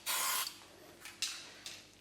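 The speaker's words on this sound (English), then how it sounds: "you got a can of spray paint in your hand right now" A can of spray paint hisses over rusty metal in a van workshop: one long burst, then a couple of shorter sprays, close and fairly loud with no talk.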